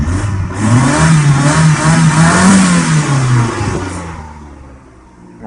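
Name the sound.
1994 Mazda MX-3 engine revving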